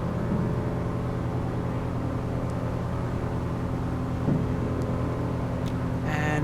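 A Piper PA-28R Arrow III engine at full power climbing out after takeoff in Flight Sim World, a steady, loud droning roar with an even hum that holds unchanged throughout.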